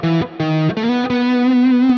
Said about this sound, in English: So I did a lick with some passing tones that sounded like this.